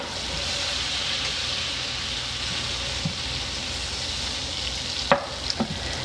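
Butter melting in a hot pan on lowered heat, a soft steady sizzle and hiss throughout with a couple of brief utensil clinks near the end, no talk.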